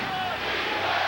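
A basketball crowd at a Knicks home game against the Hawks in 1994 roars and chants defense, a dense, loud wash of many voices heard throughout.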